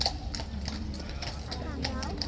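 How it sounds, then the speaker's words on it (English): Horse hooves clip-clopping in a steady, fairly close rhythm of sharp knocks as the horse walks back on, with continuous background noise beneath. "This horse coming back on."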